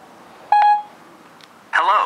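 An iPhone 5 running iOS 7 plays its Siri activation chime, a short bright tone that comes after a spoken wake phrase and is followed by a longer, louder chirp. Soft talk and a faint click are heard between the two sounds.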